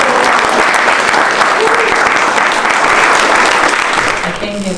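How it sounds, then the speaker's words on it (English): Audience at a poetry town event in Ennistymon applauding a poetry reader, a dense, loud, sustained round of clapping from a sizable crowd that tapers slightly at the very end. "So let's give her one more round of applause."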